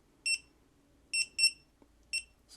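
A digital torque screwdriver gives its warning alarm as torque nears the set limit: four short, high electronic double-beeps in an uneven pattern, clear and close against a quiet background.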